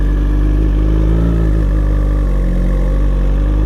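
A 2021 Suzuki GSX-R1000R fitted with a Brocks Alien Head 2 full exhaust and flashed ECU, rumbling at a deep, loud, steady idle close by, no voices.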